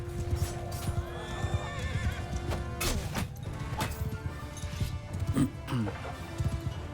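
Cavalry horses in the Mount & Blade II Bannerlord battle neigh and whinny repeatedly over a dense rumble of galloping hooves and clashing impacts, with a voice talking faintly underneath.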